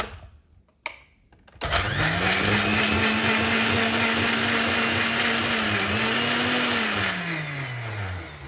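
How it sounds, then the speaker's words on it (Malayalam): Mixer grinder whirring steadily with water and dish liquid in the jar to clean it, starting with a knock and brief clatter, then a loud, continuous motor hum with a slight dip in pitch partway through. "എന്നിട്ട് മിക്സി ഒന്ന് അടിച്ച് കഴിഞ്ഞാൽ നല്ല ഫ്രഷ് സ്മെൽ ഉണ്ടാവും കേട്ടോ"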